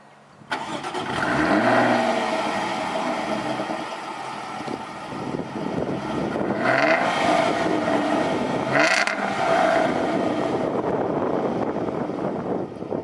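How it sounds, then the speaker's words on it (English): Supercharged V6 in a Jaguar F-Type cranks and fires, then settles into a loud, steady idle with a couple of sharp throttle blips partway through, heard up close with no talking. "now we're going to hear when the car turns on"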